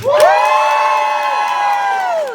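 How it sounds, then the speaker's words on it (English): Convention contest audience erupts in a loud, close burst of cheering and high shouts that holds steady for a couple of seconds, then fades off at the end. "cheer now."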